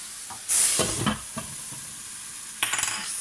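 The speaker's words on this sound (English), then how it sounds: "And then get a spoonful of water." A spoonful of water hits a frying egg in a pan, bursting into a sharp hissing surge of steam that fades to a quieter sizzle, with a few clinks and a second hiss near the end.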